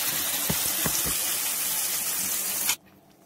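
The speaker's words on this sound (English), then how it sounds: "now I'm just going to pour them to the hot oil." Masala paste with coconut hits hot oil in a pan, setting off a loud, broad hiss with a few bubbling pops that runs steadily before cutting off abruptly near the end.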